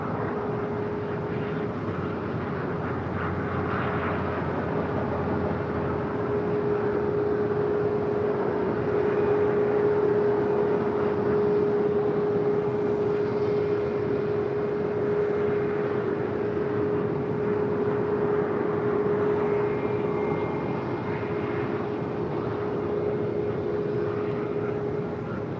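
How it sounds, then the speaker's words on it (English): An Air Premia Boeing Dreamliner rolls down a busy airport runway, giving a sustained, fairly distant jet roar with a steady whine that builds slightly midway and holds throughout. "Air Premia at the Dreamliner, rolling down 25 left"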